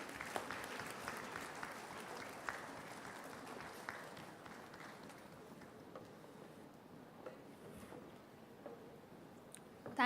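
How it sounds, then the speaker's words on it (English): An audience applauds at the 63rd convocation of a university electrical engineering department in 2025. The dense, steady clapping carries on for about ten seconds and eases off gradually toward the end, with no one speaking. "Give everyone a big round of applause."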